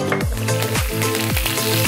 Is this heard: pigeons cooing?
no